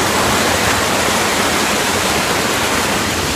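Cold, clean mountain river water rushes past close by in a loud, steady broadband roar with no pauses and no voices.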